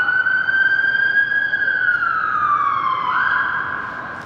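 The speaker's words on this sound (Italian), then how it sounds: "Qui ascolti le ambulanze e la polizia tutto il giorno." Ambulance and police sirens wail continuously in London, pitch sliding slowly down and back up, loud and fairly close with no voices.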